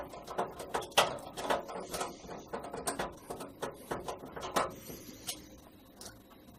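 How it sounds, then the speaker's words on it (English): Screw being driven by hand into the case of a custom Pentium III PC build, a run of close, quick ratcheting clicks and scrapes in irregular bursts that slow and fade toward the end. "get the screw in there"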